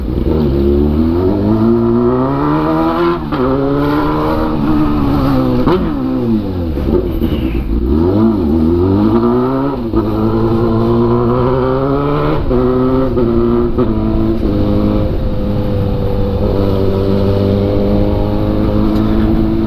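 Chromed exhaust on a Honda Hornet motorcycle revs hard and repeatedly, pitch sweeping up and down in loud, close bursts with no talk over it.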